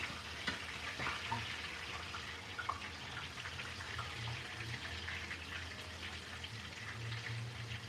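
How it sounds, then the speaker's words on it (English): Turkey wings sear in a hot pan, giving a steady, close sizzle and crackle that runs unbroken from start to finish with no talking. "I'm frying them a little bit."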